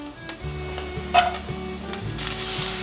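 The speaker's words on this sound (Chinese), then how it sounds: "先把红萝卜炒一炒" Carrots tossed with ginger strips in a hot pan for a vegan home-style dish give a steady close sizzle, broken by repeated scraping stirs of the spatula, with no voices.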